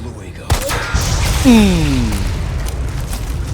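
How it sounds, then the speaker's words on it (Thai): A single sharp explosion from Resident Evil 4 Remake booms out about half a second in, followed by a rumbling tail and a descending whine as debris and game ambience continue. "ระเบิดแบบส่ใจยังกับไมเคิลบี"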